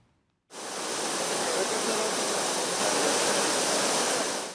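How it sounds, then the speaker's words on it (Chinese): Loud, steady roar of a monsoon-flooded river in Sylhet, northeastern Bangladesh, a dense broadband torrent that starts abruptly after a brief quiet and continues unbroken with no voices. "不过水势依然是真灿流，声势真惊人"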